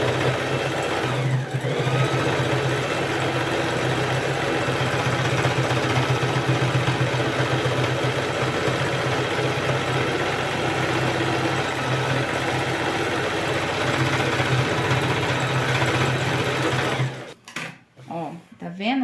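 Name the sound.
sewing machine stitching a TNT patchwork rug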